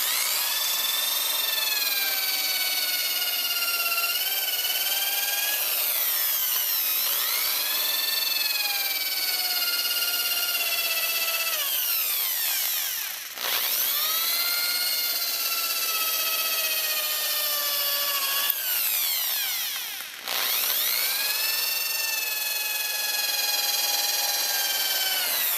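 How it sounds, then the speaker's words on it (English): Rotary power tool running a P800 sanding disc over a foggy car headlight, a loud continuous whine whose pitch rises and falls as the load changes, with two brief dips where the tool eases off. "I keep going with the P800 sanding disc until there's no"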